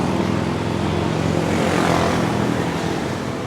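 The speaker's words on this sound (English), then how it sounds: "there's some loud exhausts there, aren't there?" Loud vehicle exhausts in Chiang Mai street traffic make a steady, broadband engine roar with a low throb, close and continuous for the whole stretch, with no voices.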